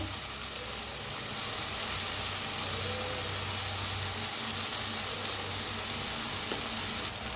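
Ground spices with turmeric, coriander powder and red chilli powder roast in hot oil in a pan for a potato and cauliflower curry, giving a steady, close, even sizzle that holds unbroken throughout, with no voices.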